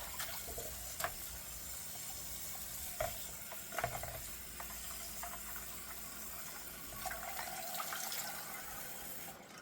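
Water runs steadily from a tap for a post-shave cold rinse, a continuous close hiss with small splashes and clinks scattered through it and no talking.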